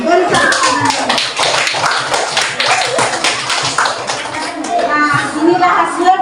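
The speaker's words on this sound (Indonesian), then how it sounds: "Beri tepuk tangan." Children clap their hands in a primary-school class after a group vegetable-planting project is graded, irregular uneven claps in bursts with children's voices chattering throughout.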